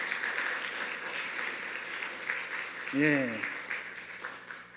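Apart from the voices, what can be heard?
church congregation applause welcoming visitors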